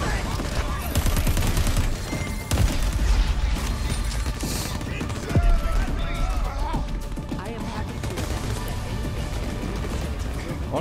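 Continuous video game gunfire in Crackdown 3, with fusillades and heavy impacts, runs through a loud, busy mix while a voice shouts over it.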